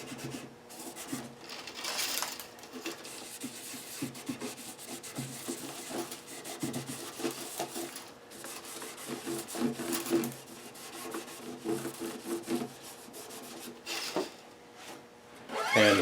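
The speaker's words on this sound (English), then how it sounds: "you gotta wipe it on, wipe it off." Cloth rubbing oil onto the fingerboard of a 1973 Gretsch guitar, a soft, quiet, steady back-and-forth wiping close by, with no talk.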